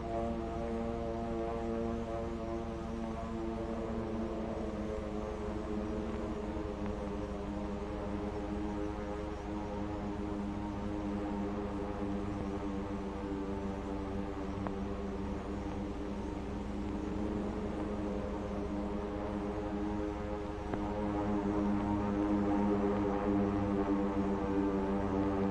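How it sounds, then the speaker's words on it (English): A steady, faint drone of propeller planes approaches, a continuous low hum holding evenly with no voices over it. "the drone of planes was faintly heard"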